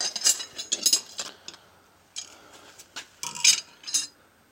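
Metal tire spoons are handled for a pit bike tire change, giving bursts of sharp metallic clinks and scrapes in short clusters separated by brief quiet gaps, close and crisp.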